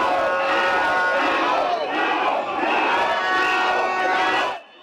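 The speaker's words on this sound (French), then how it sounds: "une foule compacte, prête à tout pour exploser de joie" A packed crowd at the Bloc Républicain headquarters after the 2021 presidential election results roars and shouts continuously, a dense wall of cheering voices that holds steady for several seconds before cutting off abruptly.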